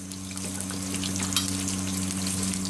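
Potato chips frying in hot oil give a steady, dense crackling sizzle, close and continuous, with a low hum underneath and no talking.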